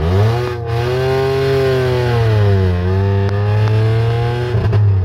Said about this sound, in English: on the first gear, handbrakes down, revving the motor